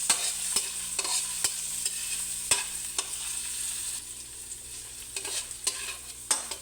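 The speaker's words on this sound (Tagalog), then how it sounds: "Guys, maggisa na tayo. Bawang, sibuyas" Garlic and onion sautéing in a hot pan, making a continuous soft sizzle punctuated by sharp clinks and scrapes of a utensil at irregular intervals, close by and moderately quiet, with nobody speaking.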